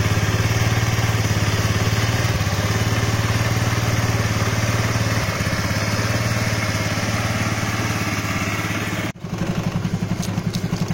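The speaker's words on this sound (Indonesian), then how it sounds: "ini suara auto cuknya masih jalan." A carbureted Honda Vario 110 cc scooter engine idles at a fast, steady, high RPM on auto choke, close by and continuous, with a brief dip near the end.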